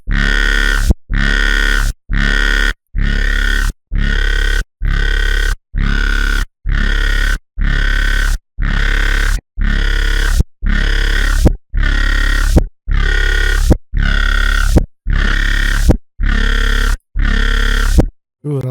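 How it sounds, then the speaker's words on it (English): A simple synthesized dubstep bass plays in regular, evenly spaced bursts, each a loud, gritty, growling chunk separated by short silences, repeating steadily over and over with no voices. "This is still a very simple bass."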